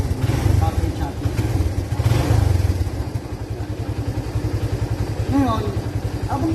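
A motorcycle engine idles steadily with a rapid, even chugging pulse and some mechanical clatter, loud and close, while someone talks over it for much of the time.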